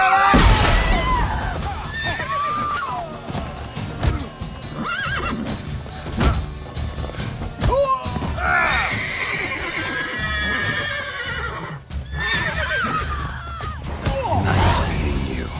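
Horses in The Witcher 3 neigh and whinny loudly several times over clopping hooves, with shouting voices and scuffling game sounds mixed in.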